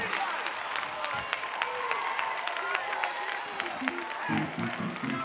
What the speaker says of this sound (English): Look at y'all clapping